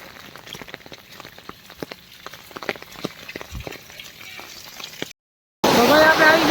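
Light rain falling near a river, with soft scattered drops tapping close by for several seconds before a brief silence and then a louder, different burst of sound.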